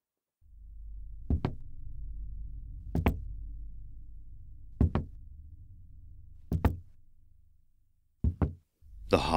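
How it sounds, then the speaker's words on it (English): Hollow knocks of boots on a train station platform land one or two at a time at irregular intervals, each a sharp thud over a low, steady rumble. "The hollow knock of boots along the station platform woke Elmer from his stupor."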